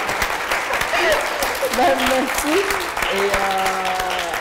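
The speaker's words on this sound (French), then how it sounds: "peut-être une bonne main d'applaudissement" Audience applause for an author at the end of a talk, a steady wash of clapping that continues while voices speak over it.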